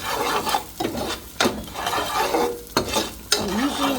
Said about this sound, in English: We are frying the onions and the crayfish.